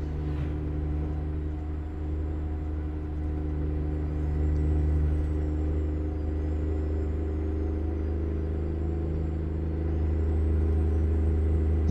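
Detroit Series 60 diesel engine in a Peterbilt 389 glider truck in American Truck Simulator, a steady deep rumbling drone at cruising load with a faint high whine, continuous and close with no talking.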